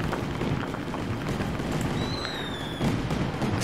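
Fireworks go off in the video game Fireworks Mania while a player tries to break a door open, producing a dense, continuous rumble of bangs and crackles, then a whistling rocket streak near the end.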